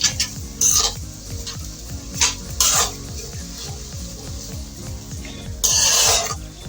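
Grated carrots and sugar fry in a pan over low flame for carrot halwa. A spoon scrapes and stirs in steady repeated strokes under a soft continuous sizzle, with a few louder clatters against the pan.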